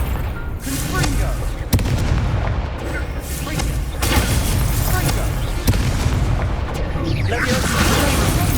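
Confringo spell fired in the game Hogwarts Legacy, loud dense booming blasts layered over continuous game noise, with several sharp impacts spread across the stretch.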